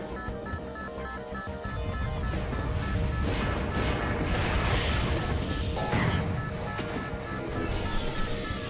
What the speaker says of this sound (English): that tiny explosion causes Samus's suit to depower